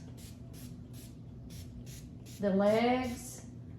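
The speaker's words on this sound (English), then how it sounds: "So I'm gonna spray everything, and be mindful again to spray it like 6 inches away." Short bursts of aerosol spray finish misted onto restored bar stools from the attic, about eight regular hisses, with someone talking briefly partway through.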